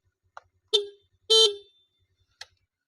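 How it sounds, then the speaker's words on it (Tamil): A 2013 TVS Scooty Pep Plus scooter horn gives two short, bright honks, the second slightly longer, framed by tiny clicks and faint blips in otherwise near silence. "ஹெட்லைட்டு பாருங்கள் நண்பர்களே ஆரன் ஆரன் பாருங்கள்"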